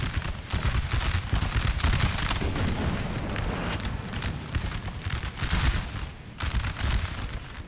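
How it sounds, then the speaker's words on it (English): A Napoleonic battle between French and Spanish forces at the Almonacid encampment in Napoleon Total War, with loud continuous rolling volleys and booming artillery fire layered densely throughout. "We got French artillery here, hitting the flank of this unit."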